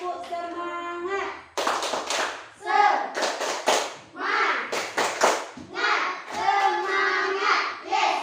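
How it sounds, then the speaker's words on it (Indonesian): Children in a classroom chant and clap in rhythm together during a spirited group clapping routine, with sharp handclaps and young voices alternating in quick bursts, close and loud. "Ayo kita tepuk semangat dulu."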